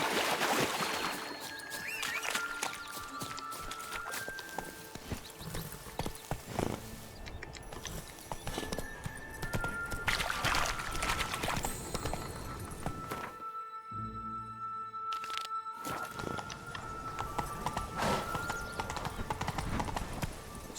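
Horse hooves clip-clop steadily on the ground in The Witcher video game, with a continuous rhythmic clatter over ambient outdoor game sound and a brief pause partway through.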